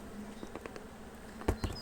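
A low, steady hum of honey bees buzzing at a hive, with soft taps and bumps close by.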